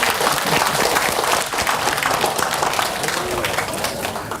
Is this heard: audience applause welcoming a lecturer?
yes